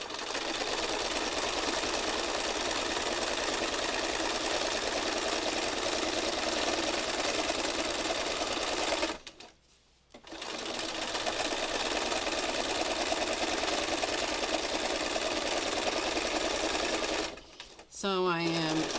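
A sewing machine runs steadily, stitching a serpentine pattern over spirals on a funky fabric heart, with a loud, continuous whirring that halts briefly twice before restarting.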